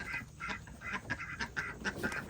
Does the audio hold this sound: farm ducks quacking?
yes